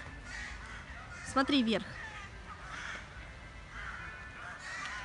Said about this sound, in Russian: грачи или вороны